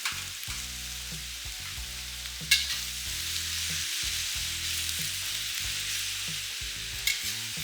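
Pork and cabbage stir-frying in a pan give a steady, close sizzle with repeated clattering stirs and scrapes of a utensil, plus two sharper knocks, with no voices.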